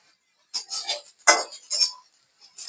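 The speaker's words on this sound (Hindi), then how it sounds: "प्याज इस तरीके से करके हमारी ये भून रही है, तो हमें इस तरीके से चलाते हुए इसे भून लेना है।" Onions being stirred and fried in a pan produce a few short, bright bursts of spatula scraping and clinking against metal, separated by near silence, with little audible sizzle.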